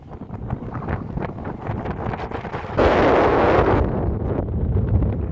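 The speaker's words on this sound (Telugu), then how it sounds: "గాలి కూడా చాలా ఎక్కువ వచ్చేస్తుంది. అసలు ఏం మాట్లాడడం కూడా వినిపించట్లే." Strong wind buffets an outdoor microphone, a loud broadband roar that rumbles steadily and surges even harder partway through, drowning out everything else.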